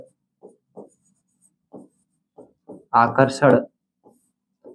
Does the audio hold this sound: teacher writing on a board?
yes